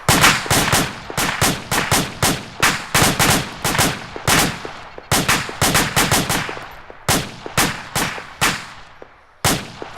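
Rapid bursts of infantry small-arms gunfire during a live-fire training exercise, sharp close cracks repeating in quick volleys with brief gaps, loud and dominating with no voices over it.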